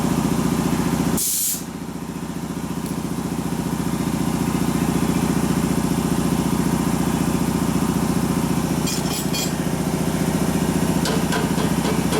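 A 1958 Harley-Davidson Panhead 74ci motorcycle engine runs steadily close by, a continuous low rumble broken once by a sharp hiss near the start and a few light clanks later.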